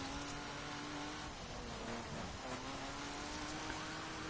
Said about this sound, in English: now we're going off-road, which is going to be kind of difficult in a street car